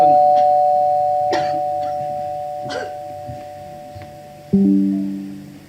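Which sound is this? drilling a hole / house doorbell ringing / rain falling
house doorbell ringing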